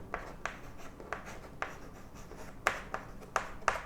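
A pen scratches across paper in short, distinct strokes as a maths solution is written out by hand, the quick bursts coming irregularly and close by with no talking.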